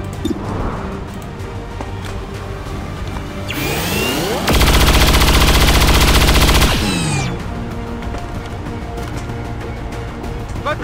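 Heavy automatic gunfire from weapons in the XCOM 2 War of the Chosen video game: a loud sustained burst of rapid shots lasting a few seconds, with game sounds before and after and no talk.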